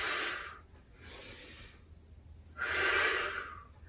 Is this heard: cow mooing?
no